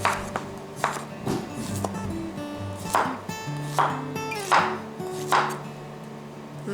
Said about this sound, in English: Okay, now we'll slice the squash.